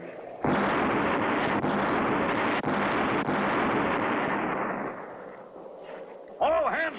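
Cartoon pirate ship cannon fire: a loud booming blast that rumbles on for several seconds and slowly fades, followed by a brief cartoon sound effect.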